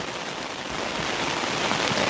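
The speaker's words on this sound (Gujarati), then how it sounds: "આમ વરસાદ આકડી વેરહો હતો ત્યાં પાસો આવી ગયો" Heavy rain pours down in the Gir forest in Gujarat, a dense, steady hiss of drops beating on surfaces that holds constant through the short stretch, with no voices.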